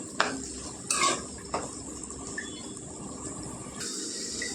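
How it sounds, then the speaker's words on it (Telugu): A spoon clinks against a pot as chopped onions are stirred into hot oil, with a few sharp metallic knocks over a faint, low sizzle and no voices. "బాగా నూనెలో కలిపేసుకొని మూత పెట్టి వేగనిద్దాం ఉల్లిపాయలకి"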